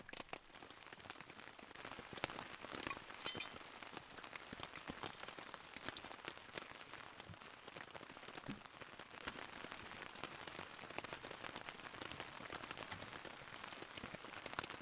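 Steady heavy rain during a severe storm at a swag campsite, a dense, even patter on a surface with no voices, holding at a constant level from start to finish.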